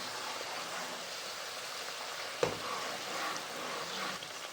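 Grated coconut mixture frying in a pan while being stirred to release its oil: a steady, close hiss of sizzling throughout, with one sharp scrape or knock of the spoon midway.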